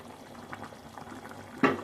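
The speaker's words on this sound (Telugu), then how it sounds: "ఇంకా బౌల్ బాయిల్ స్టేజ్లో మొత్తం ఉడుకుతుంది" Nellore-style fish curry, chepala pulusu, simmering in a pot, a low bubbling wash that stays fairly quiet until a louder burst of bubbling near the end, with no talk.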